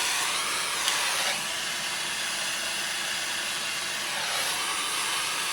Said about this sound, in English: I'm going to use a little heat out of this butane torch, and that's how I'm going to melt it